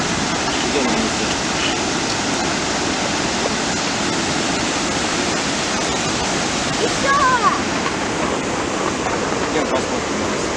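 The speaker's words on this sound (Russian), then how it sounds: "О, смотри, смотри. Водопад." A waterfall at Letchworth Park roars as steady, loud broadband rushing water that fills the whole stretch without a break, with faint voices now and then under the torrent.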